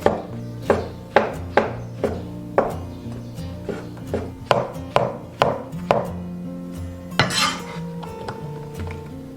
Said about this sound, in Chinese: 把香菇切片，尽量不要切得太薄